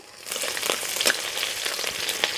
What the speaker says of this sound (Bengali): তেলটা গরম হয়ে গেছে এর মধ্যে রসুন কুচি আদা কুচি আর লঙ্কা কুচি দিয়ে দেবো